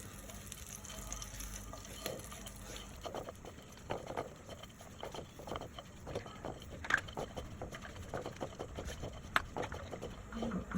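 Dry fruits and nuts (almonds, peanuts, raisins) roasting and being tossed in a pan for laddu make a quiet, irregular patter of light clicks and rattles, close but faint, continuing throughout.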